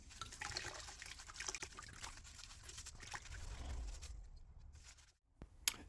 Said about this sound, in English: It's time to do some washing up.